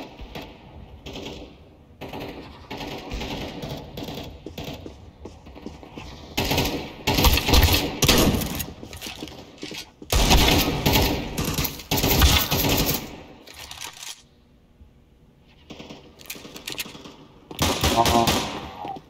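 Repeated Desert Eagle pistol shots from Counter-Strike 2 in a bot match, fired in several bursts of loud, sharp cracks separated by quieter gaps.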